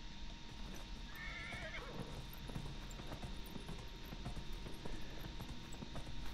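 A horse whinnies once in the video game Dragon Age: Inquisition, a rising-falling call, over steady game ambience with faint rhythmic hoof clip-clops and a low background hum.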